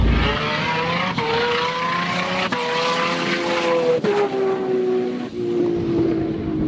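A 1600-plus wheel horsepower Nissan R34 GTR with an RB26 engine cruises on a public street, its engine droning loud and close inside the car with rising and falling pitch as it shifts through several gears.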